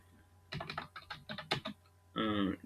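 Computer keyboard being typed on while code is entered in a programming lecture: quick bursts of close, crisp key clicks in short irregular runs, with a brief voice near the end.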